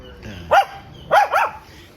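Dogs barking, three sharp nearby barks in two bursts, a single bark then a quick double, over a quiet background.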